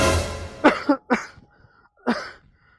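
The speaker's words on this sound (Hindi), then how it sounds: "हमरे खांसी आवत है" Several harsh coughs in quick bursts, close by, with short pauses between them and a trailing strained breath at the end.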